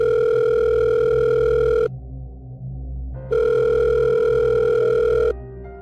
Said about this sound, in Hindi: पॉकेट में रखा उसका फ़ोन बज उठा।